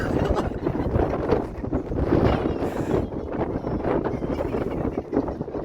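Strong monsoon wind roars steadily into the microphone on a hilltop in Karnataka, loud buffeting gusts filling the whole clip with no voices.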